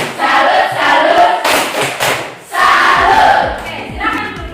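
A classroom group claps in rhythm and chants a short cheer together, loud and close, in two bursts with a brief pause between them.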